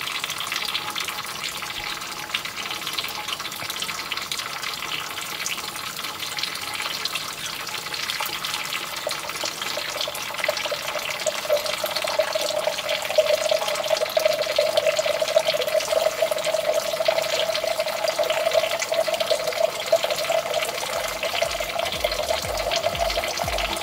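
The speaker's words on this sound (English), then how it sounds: "as the water flows through" Water runs steadily through a soil sample in a constant head permeability test in a geotechnical lab, a continuous hissing trickle that grows slightly louder and fuller partway through, with no talking.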